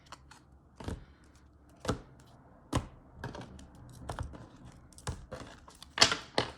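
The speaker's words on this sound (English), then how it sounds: "I'm gonna shuffle these cards one more time." Sharp, irregular clicks and soft slaps of stiff tarot cards being handled and shuffled close by, with a quiet hiss between the bursts and no talking.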